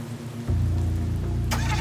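Rain falling on a humid day in Melbourne's central business district, a soft background hiss that swells suddenly into a louder, steady wash, with a brief bright burst near the end.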